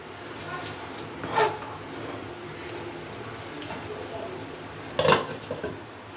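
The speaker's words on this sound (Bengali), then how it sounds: "দেখুন বন্ধুরা চাপা দিয়ে দিয়ে মাংসটা কষছি" Chicken kosha with sour yogurt cooks covered in a pan with no added water, making a faint, steady bubbling simmer broken by two sharp clinks of a lid or utensil.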